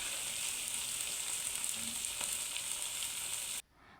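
Beaten eggs sizzle in a pan for a scrambled egg curry while they are stirred slowly. A bright, continuous frying hiss is marked by a few soft stirring scrapes, then cuts off abruptly near the end.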